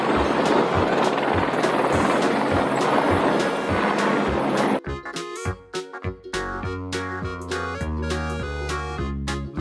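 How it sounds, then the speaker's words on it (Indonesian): A helicopter's rotor and engine produce a steady, loud, whirring roar for about five seconds, then the sound cuts abruptly to music. "Helikopter."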